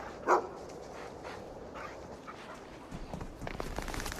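A dog lets out a single short bark near the start, followed by faint outdoor ambience and rustling with no further calls.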